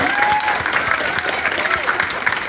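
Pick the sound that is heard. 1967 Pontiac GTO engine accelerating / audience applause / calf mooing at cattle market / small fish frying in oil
audience applause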